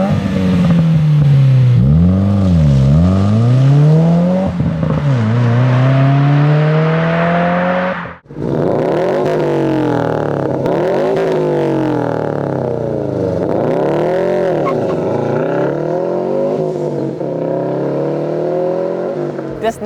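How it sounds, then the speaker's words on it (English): Subaru WRX/STI flat-four engines rev repeatedly with the classic boxer rumble, loud and close, rising and falling in pitch through several sharp throttle blips with a brief cut around the middle. "that traditional Subi rumble just sounds a little bit better"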